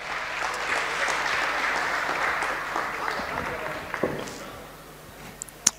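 An audience at a live DJ performance applauds warmly, a dense, steady wash of clapping that slowly thins out and fades toward the end, with a few isolated claps and faint crowd noise.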